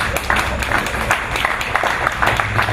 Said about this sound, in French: Je pensais que vous allez applaudir.